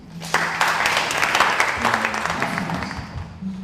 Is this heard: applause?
yes